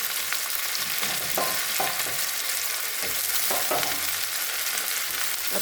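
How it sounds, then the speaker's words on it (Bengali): Potatoes and onions frying together in a pan of hot oil give a steady, close sizzle that runs throughout, with occasional scrapes and stirring knocks. "আলু আর পেঁয়াজ একসঙ্গে ভাজা হয়ে যাবে।"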